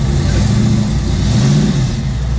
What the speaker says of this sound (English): Whenever you want to roll and do a rolling burnout.